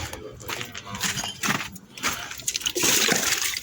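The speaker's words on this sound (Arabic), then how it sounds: "كام مسقه هنملاهم ميه" Splashing, gurgling water pours steadily into a drinking trough, with irregular bursts and some faint background noise throughout.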